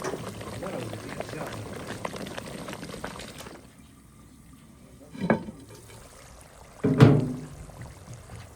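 Chicken boti cooking in a handi pot, with a soft bubbling simmer and a couple of brief louder sizzles or clatters partway through.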